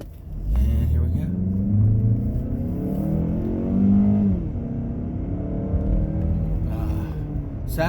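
A 2020 Mazda CX-30 in sport mode pulls away from a stop sign, its engine rising and falling through the gears in a loud, close interior rumble, with no speech.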